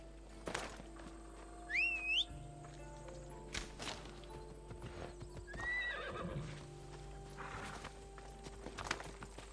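A horse in Assassin's Creed Odyssey clip-clops along at a steady gait and lets out two distinct whinnies, with hoofbeats moderately close over a quiet game ambience.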